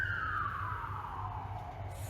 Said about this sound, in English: Fucking sirens, I'm so sick of them